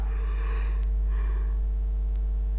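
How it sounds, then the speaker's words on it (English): A person yawns twice, each a drawn-out breathy inhale and exhale, close and fairly soft over a steady low electrical hum, with brief clicks between them. "Still getting those yawns."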